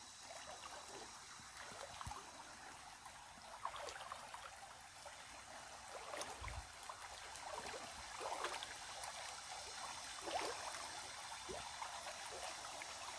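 A winding river creek flows with a soft, continuous rushing and trickling hiss, steady and fairly quiet throughout, with a few faint knocks and no speech.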